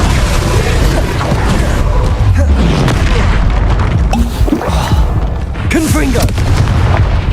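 Incendio fire spell in the video game Hogwarts Legacy, a loud stretch of roaring, crackling blasts and repeated booms with whooshing sweeps, under a voice and busy game sound.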